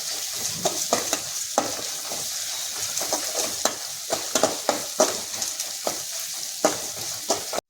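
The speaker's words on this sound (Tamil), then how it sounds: "இஞ்சி பூண்டு போகிற வரைக்கும், வாசனை போகிற வரைக்கும் நல்லா வணக்குங்க." Ginger garlic paste sizzling in hot oil in a pan, stirred continuously with a utensil giving repeated close scraping strokes over a constant frying hiss.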